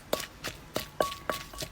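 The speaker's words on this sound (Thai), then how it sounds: "ตำพอให้หยาบหยาบพอค่ะ" Dried chilies pounded coarsely in a mortar with a pestle, six sharp, evenly spaced thuds at close range, fairly quiet and without talk.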